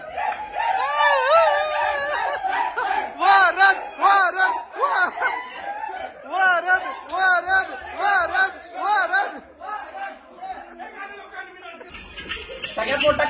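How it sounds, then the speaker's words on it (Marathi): A group of boys on a New Year trip in Goa shout and cheer together during a celebration dance, loud rhythmic whoops and chants that rise and fall in bursts, close by and continuous. "म्हणून त्या स्वागतासाठी हा जल्लोष डान्स असं सगळा चालू आहे बरं का"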